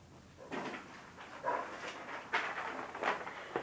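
A beagle harrier hound makes a few soft whimpering, panting sounds close by, in short bursts with pauses between.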